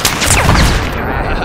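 Sniper rifle fire in the video game Battlefield 3 during a firefight, with a helicopter target overhead; a loud, dense burst of gunfire and combat noise fills the whole moment.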